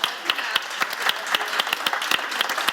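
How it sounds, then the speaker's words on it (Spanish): An audience claps steadily in a lecture hall after a talk on Alzheimer's disease, with dense, even applause at moderate loudness and a faint voice underneath. "pues eso hay que aplaudirlo"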